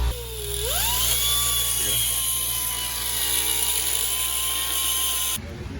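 A power tool cuts a metal lip off a car, a high whine that rises quickly then holds steady and loud for about five seconds before stopping abruptly.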